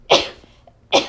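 A person lets out two sharp sneezes close to the microphone, nearly a second apart, with a quiet pause between them.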